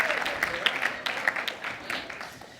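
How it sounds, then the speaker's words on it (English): Classroom audience giving a round of applause, a modest group clapping in an uneven patter that slowly fades over a couple of seconds, fairly close. "Give him a round of applause for helping me out."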